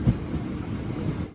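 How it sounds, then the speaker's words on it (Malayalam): A passenger express train arrives at Sivakasi railway station, giving a steady, broad rumble of rolling wagons heard from on board, with no voices. "ട്രെയിൻ ഇപ്പോൾ ശിവകാശി റെയിൽവേ സ്റ്റേഷനിലെത്തി"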